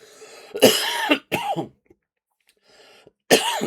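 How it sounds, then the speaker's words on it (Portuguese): Two short, dry coughs in quick succession, then a pause with faint breathing and a third cough, all close by with no talking. "uma tosse seca"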